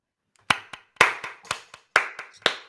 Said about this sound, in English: If we all clap loud enough, we might even be able to hear ourselves from our homes around the neighborhood.